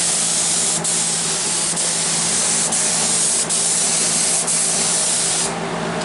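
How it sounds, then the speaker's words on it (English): PVA mould release is sprayed onto a gel coat mould in a continuous loud, close hiss with small regular breaks or pulses every second or so, and no voices. "Now it looks a little textury when you first spray it"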